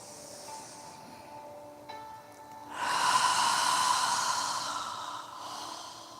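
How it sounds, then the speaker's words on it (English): A person breathes slowly during yoga practice, a quiet steady inhale followed by a louder, longer airy exhale, close and without talking. "As you're breathing, inhaling,"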